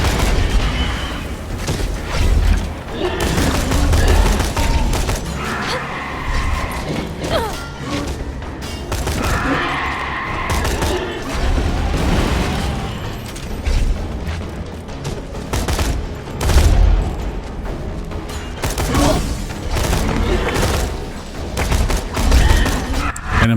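Gunfire and grenade explosions fill a Borderlands 2 video game battle: dense, continuous bursts of shots with heavy booms and crashes landing every few seconds, loud and close.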